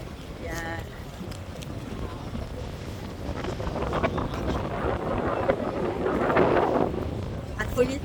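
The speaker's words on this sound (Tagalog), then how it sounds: "The weather is nice here, windy but nice." Wind at Fuerteventura airport in the Canary Islands buffets the microphone, a steady rumbling gusty roar that builds toward the end, with people talking over it.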